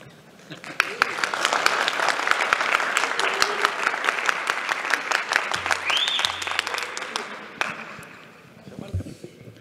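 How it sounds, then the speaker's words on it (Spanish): Audience applause in a presentation room: a small group claps with distinct, closely spaced hand claps that swell and then thin out, with a brief murmur of voices near the end. "Fuerte aplauso."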